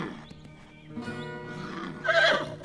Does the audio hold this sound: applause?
no